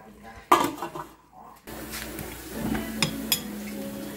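Crayfish curry being dished up in a kitchen, with pots and cutlery giving sharp clinks and clatters, a loud knock near the start, then scraping and light tapping close by.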